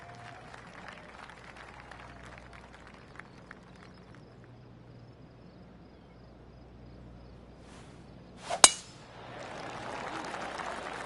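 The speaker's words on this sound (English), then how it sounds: "Oh, golf clap." Soft golf-clap applause in a golf simulator game, a quiet patter that swells in the last few seconds after a sharp clang near the middle, over a low ambient hum.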